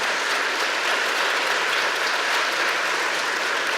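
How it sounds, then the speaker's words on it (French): Sustained applause from an audience at a national gathering and show, steady and dense clapping filling the whole stretch with no voices on top. "on peut les applaudir bien fort"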